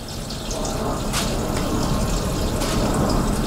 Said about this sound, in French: Je vais donc les tremper dans de l'eau